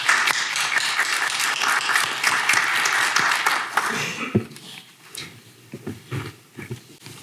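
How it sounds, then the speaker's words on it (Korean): Seminar audience gives dense, warm clapping to welcome a social welfare professor to the lecture, lasting about four seconds before tapering into scattered claps, shuffling and low murmurs. "오늘 발표를 하실 최정원 교수님을 따뜻한 박수로 맞이해 주시기"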